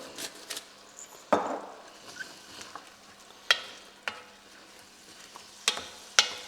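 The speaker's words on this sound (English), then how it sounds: "Continue to let that fry off for a couple of minutes." Quiet frying of leek and garlic in a pan, a soft steady sizzle broken by a few sharp clicks and scrapes of stirring, with no voices.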